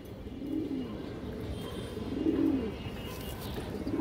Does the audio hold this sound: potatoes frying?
no